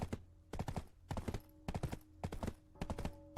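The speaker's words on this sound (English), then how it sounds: "let's wait out here with this other horse at the hitching post" Horse hooves clip-clopping in the online role-playing game Black Desert Online, arriving in rhythmic bursts of sharp, hollow knocks separated by short pauses over a faint steady background hum.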